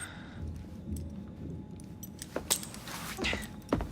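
Metallic key jangling in Assassin's Creed Syndicate, light clinking rattles over a low rumbling background, with sharper jingles building toward the end.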